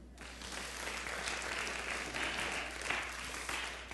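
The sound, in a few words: congregation applause in church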